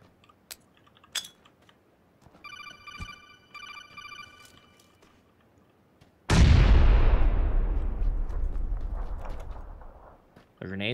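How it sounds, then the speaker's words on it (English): A grenade explodes in PUBG, a single loud, close blast that rolls into a long decaying rumble. Quieter game clicks and a repeating electronic ringing tone come before it, and a second burst begins right at the end. "The grenades sound really good."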